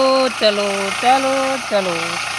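A tractor engine chugs steadily close by while sowing a field, with repeated falling tones over the rumble and a voice speaking at times.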